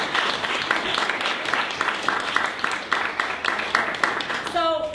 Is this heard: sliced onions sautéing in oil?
no